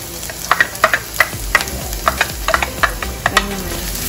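Garlic frying in a pan, stirred with a utensil: repeated scraping clicks and short bursts over a steady oily sizzle, close and moderately loud, with no talking.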